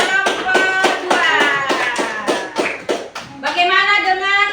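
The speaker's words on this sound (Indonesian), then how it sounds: "Tepuk tangan untuk kelompok 2" Rhythmic group clapping in an Indonesian school classroom for a student group, about a dozen even claps in a steady beat with children's voices chanting over it, close and loud.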